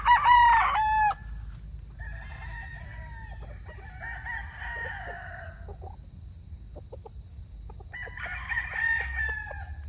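Melting black gamecock stag crows close by, with a loud call at the start and further crows and clucks following, over a low rumble of background noise.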